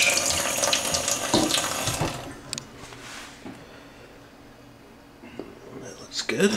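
Kitchen tap water splashes loudly into a measuring cup being rinsed, strong for the first two seconds, then tapering to a faint trickle with small clinks near the end.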